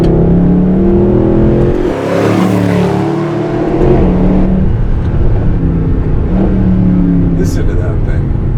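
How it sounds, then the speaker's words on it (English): A Mercedes SLS AMG Final Edition V8 roars close up as it revs and pulls through gears on its dual-clutch automatic in manual mode, with a loud sweeping engine note that rises and falls, and someone talks over it. "Just a mean, aggressive V8, huh?"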